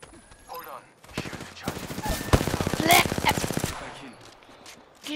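Rapid automatic gunfire rattles in the Apex Legends video game, a dense burst of rhythmic shots that swells to a loud peak and then trails off, with scattered single reports before and after.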